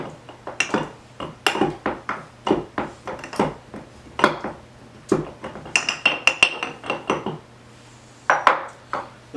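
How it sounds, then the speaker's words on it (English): Mint leaves muddled in a glass: a steady run of sharp, close knocks and grinding taps, roughly one or two a second, with a few brighter glassy clinks toward the end. "Now what we're going to do is called muddling."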